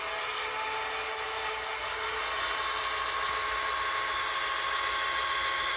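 An HO scale Santa Fe F7 model locomotive gives a steady, continuous diesel engine hum with a faint whine on top, unchanging and alone, with no talk.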